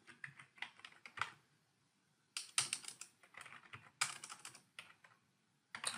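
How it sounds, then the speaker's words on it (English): Typing on a computer keyboard comes as quick, close, fairly quiet clusters of key clicks, separated by short pauses, with no talk. "I cannot type."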